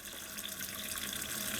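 Water runs steadily from an RV faucet as the lines are bled, a continuous hissing splash that holds constant and close throughout, with no voices.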